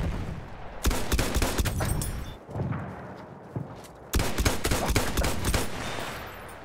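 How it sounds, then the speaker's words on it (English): Machine gun fire in the Battlefield 1 video game rattles in two dense, loud bursts of rapid shots, broken by a short lull with scattered single reports and distant thuds. "Machine gun."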